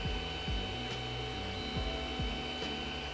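A Creality CR-10 3D printer fitted with stepper motor dampeners moving its X-axis, a faint, steady motor whine in shifting stepped tones with soft mechanical ticks, close and alone.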